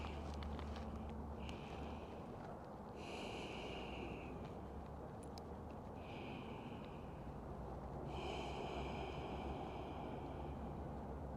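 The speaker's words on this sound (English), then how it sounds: "we're going to stay here for 3 rounds of breath" Slow, deep breathing during a yoga hip stretch: long airy inhales and exhales, several drawn-out breaths spaced a few seconds apart, soft and close over a steady low background hum, no talking.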